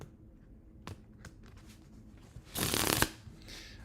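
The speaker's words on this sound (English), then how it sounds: "I like the push through shuffle" A deck of playing cards is given a push-through shuffle. A few soft riffles and taps come first, then a louder, dense burst of cards fluttering together near the end, close and clear with no voices.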